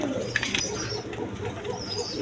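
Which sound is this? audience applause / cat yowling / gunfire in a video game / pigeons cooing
pigeons cooing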